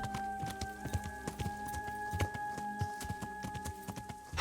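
Horse hooves clip-clop at a walking pace in the medieval game Kingdom Come: Deliverance, close and rhythmic over a steady background hum, with no speech.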